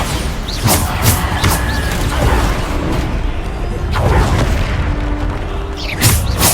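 Explosion spell blasts in the game Hogwarts Legacy, several booming hits with whooshes over a loud, busy combat background, repeating roughly every second or two.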